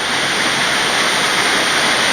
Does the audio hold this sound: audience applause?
no